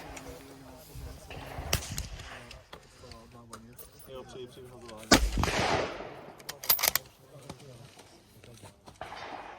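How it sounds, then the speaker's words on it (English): A CZ 600 centrefire rifle fires at a steel plate outdoors, one sharp loud report cutting through the middle of the scene amid nearby talk, with a second sharp crack following shortly after. "I'm going to shoot that blue plate out there"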